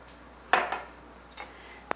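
Buttermilk is stirred into cornmeal in a bowl, heard as a few separate close utensil clinks and scrapes against the bowl over a quiet background.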